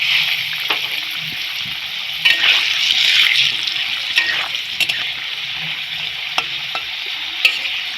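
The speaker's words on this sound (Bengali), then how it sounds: "আলুগুলো খুব ভালোভাবে ভাজা হয়ে গেছে" Potatoes with turmeric frying in oil, a loud steady bright sizzle throughout, with occasional light clicks of a stirring utensil, heard up close with no talk.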